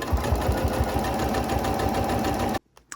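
A sewing machine runs steadily while stitching a seam line along the edge of a winter cape, a close, even mechanical whir that stops abruptly near the end.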